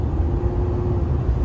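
Engine of a long-neglected old car held steady at about 1500 rpm, a continuous low droning rumble with a steady hum, close and even throughout, with no talk.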